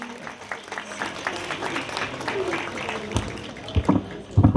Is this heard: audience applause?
yes